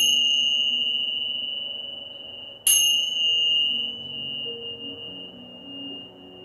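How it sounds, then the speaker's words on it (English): A resonating bell rings out at the end of a hatha yoga session, a pure sustained tone decaying slowly before a second bright strike renews it, the ringing lingering and fading alone with no voices. "Let your mind, your soul, and your body absorb the vibrations of the bells"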